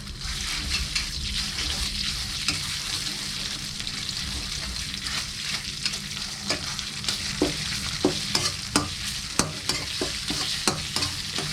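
Red curry paste is stir-fried in a wok with a continuous close sizzle. Sharp clicks and scrapes of a utensil against the pan grow more frequent toward the end.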